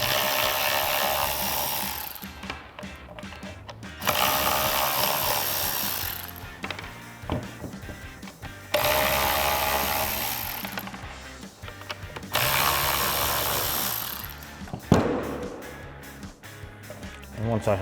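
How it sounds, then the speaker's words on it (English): An electric ratchet with a T25 Torx bit whirs in several bursts as it removes four fog light bolts on a 2005-2012 Mustang GT, with clicks and handling noise between the runs. "I'm going to take my electric ratchet with my 25 Torx on and remove these 4 bolts."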